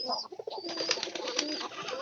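A pigeon coos softly in short, repeated low calls, faint and fairly close, alongside a thin high tone and light background noise.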